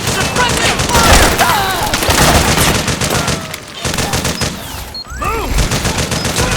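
Dense bursts of automatic gunfire and single shots in Metal Gear Solid 4, loud and close, mixed with shouted voices, whizzing sounds and a brief lull before firing resumes.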